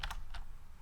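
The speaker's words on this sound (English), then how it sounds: "Now we're gonna type /usr" A few quick keystrokes on a computer keyboard while typing a command on an Ubuntu server, heard as three close, crisp clicks with no speech.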